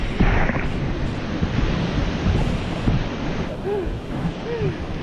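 A strong water current rushes outdoors under heavy wind buffeting on the microphone. The roar stays loud and constant throughout, and faint voices are heard under it.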